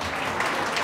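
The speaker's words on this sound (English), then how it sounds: "A big round of applause, ladies and gentlemen." Wedding guests clap together in a steady, moderately loud round of applause, a brief dense patch of many hands with no pauses.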